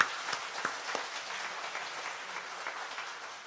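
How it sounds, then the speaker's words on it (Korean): A church congregation applauds during a 70th-anniversary ordination and retirement service, with steady, moderately quiet clapping that fills the whole stretch without any talk. "우리 감사의 박수 한번 다시 한번 해주시기 바랍니다"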